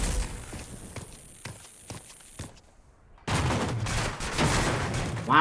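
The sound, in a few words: gunfire shooting a box in Rage 2 video game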